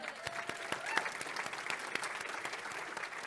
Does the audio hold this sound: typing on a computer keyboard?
no